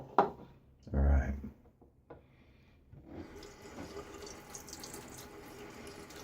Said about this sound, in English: A little splash of water.